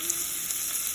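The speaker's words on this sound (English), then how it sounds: "To the heated and melted ghee, add a little bit of ginger," Grated ginger frying in hot melted ghee for Amritsari chole, a bright continuous sizzle, close and steady, with no voices.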